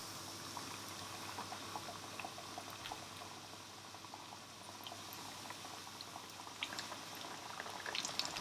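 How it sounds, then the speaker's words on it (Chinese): Chicken wings deep-frying in hot oil over medium heat, a steady bubbling crackle of oil with scattered small pops, close and continuous throughout with no voices. "保持中火炸至大概5分钟左右，炸到表面都金黄就可以捞出了"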